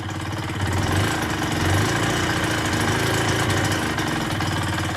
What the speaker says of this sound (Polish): silnik wmontowany zaczyna chodzić.